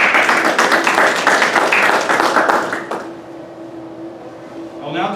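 Audience applause at an Air Force graduation ceremony for newly promoted airmen, a dense round of clapping that fades out after a few seconds, leaving a quiet room hum.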